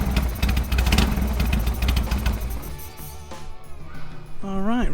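A motorcycle engine runs strong and steady after a spark plug problem, a dense mid-pitched rumble that is loud at first, eases slightly, then swells again with a brief rev near the end.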